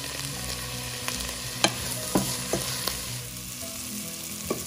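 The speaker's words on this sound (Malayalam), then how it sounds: "സവോള ഇച്ചിരി മുരിയുന്നത് വരെ നമ്മൾ വെയിറ്റ് ചെയ്യണം" Onions with salt fry for a tomato curry, a close continuous sizzle broken by sharp scraping knocks of a utensil stirring the pan.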